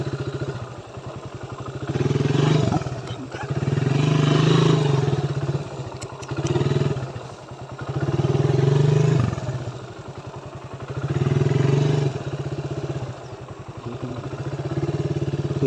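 A motorcycle riding over a rough, difficult road, its mid-pitched engine surging and easing in repeated waves with clattering and thumping from the bumpy surface, close and loud with no talk.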